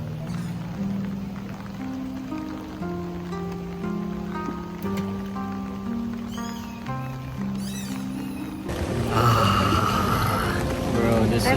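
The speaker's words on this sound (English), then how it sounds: "It's raining." Rain falls on a warm, humid day at a Japanese onsen, a steady hiss and patter that swells louder toward the end beneath voices talking.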